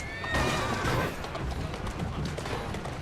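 A horse neighs and whinnies loudly in the video game Assassin's Creed Syndicate, with a faint clip-clop of hooves and carriage movement continuing underneath over a busy game soundscape.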